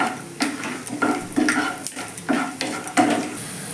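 Peanuts are stirred in hot white oil in a wok, the spatula scraping and clacking against the pan in a regular rhythm about every half second over a light, continuous sizzle, close and with no talking.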